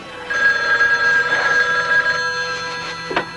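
A telephone bell rings steadily in a horror movie trailer, a loud sustained electronic trill that holds for a few seconds and then breaks off, with a short low thump near the end.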